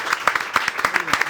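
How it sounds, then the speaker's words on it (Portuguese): An audience at a talk on bullying claps in a brief, fairly sparse burst of applause, the individual claps distinct and close. "Um aplauso!"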